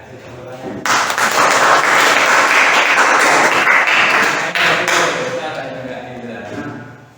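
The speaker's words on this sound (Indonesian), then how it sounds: "ya, kasih tepuk tangan." Applause from a class or small group at a teacher mentoring session, a sudden burst of dense, close clapping that holds steady for several seconds, then tapers off.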